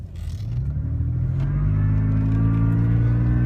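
A supercharged Toyota FJ engine builds gently at about 30% throttle and low boost, a low rumble climbing steadily in pitch, heard close with no voices.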